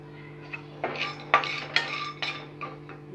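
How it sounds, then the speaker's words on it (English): Dry coconut pieces shifting and clinking against a hot tawa as they are stirred, a handful of light scraping knocks spaced through a short stretch over a steady low kitchen hum, with no talking. "We just have to initially heat the tawa and just heat the dry coconut pieces a little."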